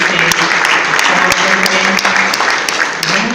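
An audience at a yoga competition claps in a steady, loud burst of applause, with sharp individual claps and faint talking underneath.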